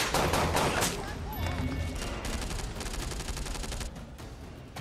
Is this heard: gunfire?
yes